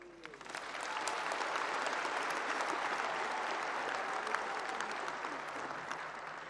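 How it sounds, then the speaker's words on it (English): Sustained applause from the audience at a state memorial service for Dr Festus Mogae, a dense crowd clapping that swells within the first second and holds steady throughout, with no talking over it. "But let's all applaud"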